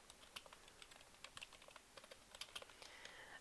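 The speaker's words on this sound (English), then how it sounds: "Let me type up the poll real quick." Rapid, light typing on a computer keyboard, close and fairly quiet, with irregular clusters of key clicks and no voice.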